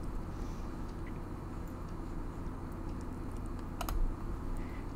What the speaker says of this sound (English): press Command V or Control V again